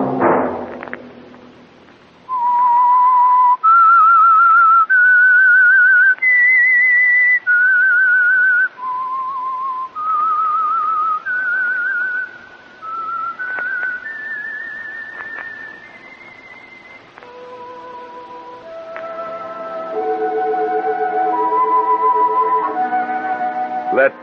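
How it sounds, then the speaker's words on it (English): Whistled melody serving as the theme signal of The Whistler mystery radio program, a lone clear whistle stepping through sustained notes, loud and close, ending with a richer chord-like passage. "That whistle be your signal for the Signal Oil program, The Whistler."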